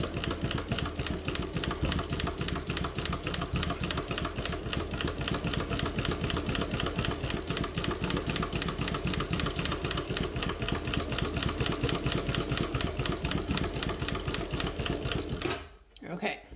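A Mauzer chain stitch embroidery machine stitches lettering, giving a fast, even mechanical chatter that runs steadily and close before stopping abruptly near the end.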